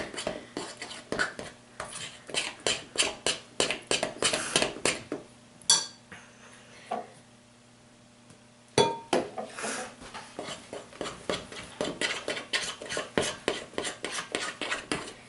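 A spoon scrapes and clinks against a bowl as pink food colouring is stirred into cupcake batter, quick rhythmic knocks with a brief pause midway, close and clear.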